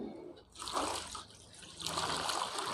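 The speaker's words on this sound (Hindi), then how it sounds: "अब मैं इसमें पानी और डालता हूँ" Water pours and trickles steadily onto dried cow dung cakes in a container to soak them for compost, a soft continuous splashing that swells twice.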